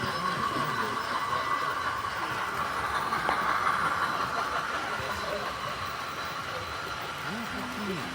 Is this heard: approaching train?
yes